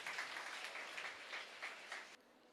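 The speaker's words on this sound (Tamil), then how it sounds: "நல்லா ஒரு முறை கைத்தட்டி பாராட்டி அவரை அன்போடு அழைக்குமாறு கேட்டுக்கொள்கிறோம்" A studio audience at a Tamil Pongal television debate programme applauds in faint, fairly even clapping that cuts off abruptly near the end.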